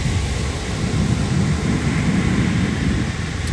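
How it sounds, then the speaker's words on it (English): Outdoors, gusty wind buffets the microphone in a continuous loud, low rumble that fills the whole stretch, with no voices heard. "I know it is windy out."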